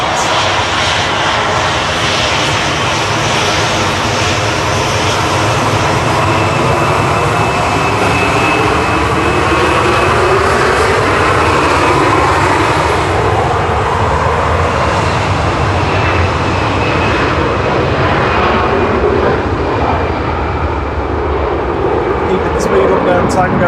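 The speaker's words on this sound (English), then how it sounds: "this is first Ryanair from Dublin" Ryanair jet airliner arriving from Dublin at Manchester Airport, a loud sustained roar of jet engines with a sweeping pitch as it passes, a voice talking over it.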